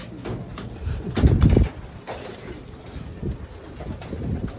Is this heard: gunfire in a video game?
no